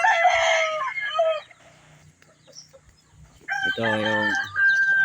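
Chickens in an open-air pen give loud bursts of crowing and clucking, close by, separated by a quieter stretch, with someone speaking briefly between the calls.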